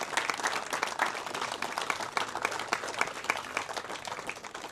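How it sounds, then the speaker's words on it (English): An audience at a special presentation gives a round of applause, with dense, lively clapping holding steady throughout. "Give these guys a round of applause"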